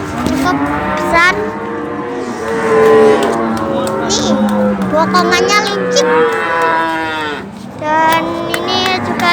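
Cattle moo repeatedly at the busy Wirosari cattle market in Indonesia, several loud overlapping calls close by, while someone talks nearby and crowd noise fills the background.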